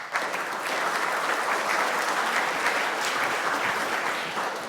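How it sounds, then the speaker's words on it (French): Sustained audience applause in a plenary hall at a foundation event, greeting a goddaughter of the foundation; many hands clap in a continuous, even roar that holds steady and tapers slightly at the end, with no voices over it. "d'applaudir Assina Lebdiri, qui est filleule."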